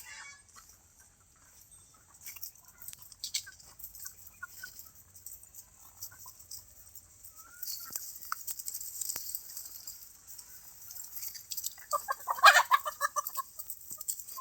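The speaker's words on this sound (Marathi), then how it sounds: "सावलीला बसलेल्या आहेत सर्व कोंबड्या" Hens on a poultry farm resting in the shade, clucking softly and intermittently at a distance, with a louder burst of fowl calls near the end and no talking.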